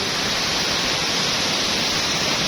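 Aliwagwag Falls waterfall roaring steadily, a dense, constant broadband rush of falling water close by with no pauses or voices.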